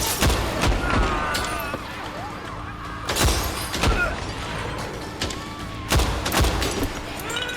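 Gunfire in the first-person shooter Better Than Dead, loud sharp shots in irregular clusters over a dense backdrop of game noise and crackle, repeating through the whole stretch.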